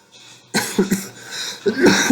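A few sharp, harsh coughs close by: one burst, a quick pair, then a pause before a heavier double cough at the end.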